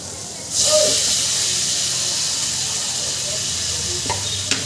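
Vegetables that were fried earlier sizzle and hiss steadily in a pan of cooked-down spice paste for fish jhal, a broad continuous frying noise starting after a brief quiet moment, with faint scrapes of stirring near the end.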